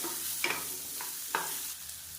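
Guava pieces sautéed and stirred in a pan for a Tamil-style guava chutney: soft continuous frying sizzle with a few brief scraping stirs of the spatula, close and steady.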